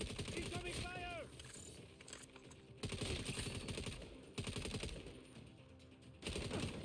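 Rapid bursts of automatic gunfire crackle through a chaotic shootout in Saints Row, loud and sustained in several volleys, with voices shouting over the fire.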